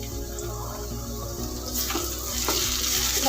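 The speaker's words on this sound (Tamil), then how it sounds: "இந்த பச்சை வாசம் போகிற வரைக்கும் நல்லா வதக்கலாம்." Ginger garlic paste sautéing in a pan after onions were fried golden, a steady close sizzle with occasional stirring scrapes that grows slightly louder toward the end.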